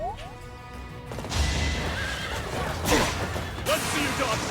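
Horses neigh and whinny in a Fire Emblem: Three Houses battle, a sharp call near the start followed by more whinnies amid clattering hooves and game effects, with a player talking over them.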